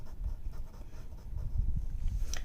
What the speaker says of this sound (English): That's why you're hearing the pencil moving across the paper.